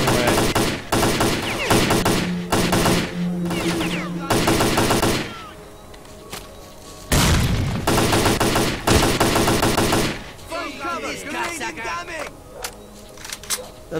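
Grenade blasts and bursts of gunfire in the shooter game Stalker: Clear Sky come as loud, rapid volleys and booming hits in several clusters, with quieter gaps between, close and dense throughout.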